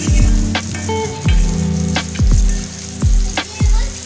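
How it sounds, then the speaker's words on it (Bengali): Oil, onion and garlic sizzle loudly in a hot wok, a continuous crackling fry broken by several sharp clanks of a spatula stirring against the metal. "প্রথমে কড়াইটা গরম করে একটু তেল, পেঁয়াজ, রসুন দিয়ে দিলাম।"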